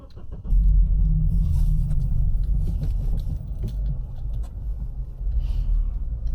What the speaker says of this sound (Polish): Przejeżdżam samochodem 200 metrów.